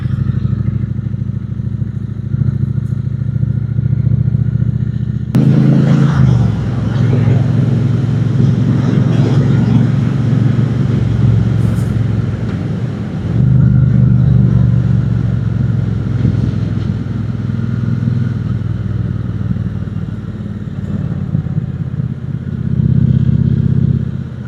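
A Triumph Speedmaster motorcycle on the road, its engine droning steadily with a sudden rise around the fifth second, then a sustained roar mixed with wind rush and clatter.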